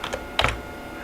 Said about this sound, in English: you can type netstat